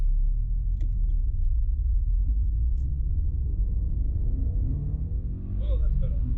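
A Subaru BRZ fitted with a Pro Speed Racing unequal length header idles in a steady, deep, close rumble, with some faint voices over it.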